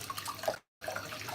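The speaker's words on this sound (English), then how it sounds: "So at first I rinse out the pot" A pot is rinsed under a running tap, with close water splashing that briefly cuts out and then resumes.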